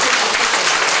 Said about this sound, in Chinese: 各位掌声响起来